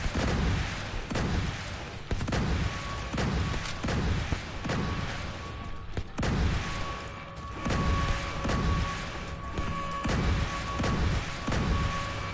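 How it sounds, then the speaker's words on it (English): Missile turrets firing in a PS4 video game: a string of heavy, booming launches and blasts at irregular intervals, loud and close, with a faint steady tone running underneath. "Missile turrets activating."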